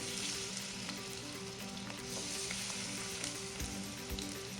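Hot oil sizzles steadily in a pan, readied for pan-fried salmon tacos, a dense continuous crackle with a few sharper pops, close and fairly loud with no voices.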